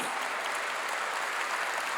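A church congregation applauds steadily during a sermon, a dense wash of many hands clapping at an even level with no talk over it.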